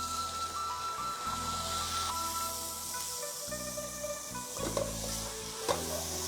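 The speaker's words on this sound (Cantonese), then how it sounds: "碌到金黃色，隻鴨就好靚仔㗎" A whole duck fries in a wok until golden, giving a loud, continuous close sizzle and hiss with occasional scraping stirs and a low steady background hum.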